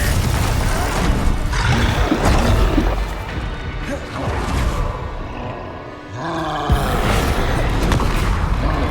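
Confringo fire-spell explosions in Hogwarts Legacy land as a run of loud booming crashes with whooshing blasts and rumbling roars, one after another and close up.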